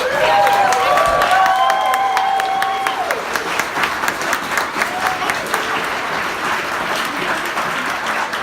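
An audience applauds children who performed in a fairy-tale show, loud sustained clapping filling the room while voices and a brief tonal call ring out over the start.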